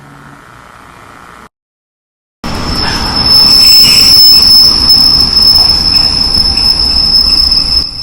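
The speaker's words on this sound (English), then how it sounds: "I'm at the train station right now. It's a couple of people out and it's another train." A train passes through a station in Denmark with loud, continuous wheel squeal and rolling rail noise, starting abruptly after a brief silence and holding close and strong to the end.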